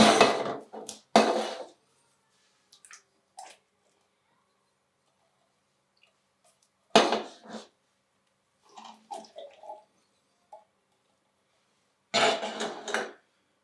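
Three cans of drained mild chili beans tip into a pot for tailgate chili, each landing as a short wet thud with clatter, spread across the stretch and separated by near silence and small taps.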